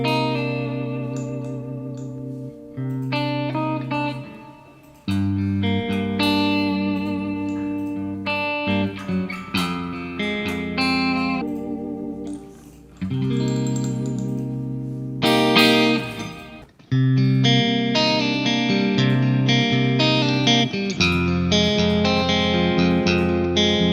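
Electric guitar chords and single-note phrases played through a Quad Cortex-style processor with reverb added, sustained ringing tones with washy tails, loud and close with brief pauses between phrases.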